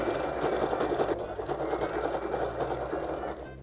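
Singer Start 1306 sewing machine stitching knit fabric, a close, steady mechanical whirr with a rapid needle rhythm running continuously and easing off slightly at the end, no talking.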